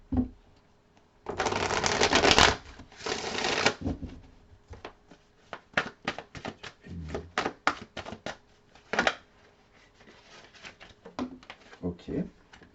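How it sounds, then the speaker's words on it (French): Tarot cards are shuffled close to the microphone: a long riffling rush followed by a series of short, crisp card snaps and taps, with a few quiet pauses between. "on va prendre quelques cartes du tarot"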